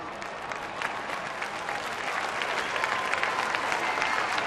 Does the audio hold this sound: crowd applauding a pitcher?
yes